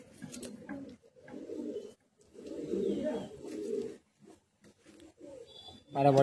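Madrasi high flying pigeons coo in close, soft bursts of low throaty calls separated by brief pauses, with a faint bird chirp near the end.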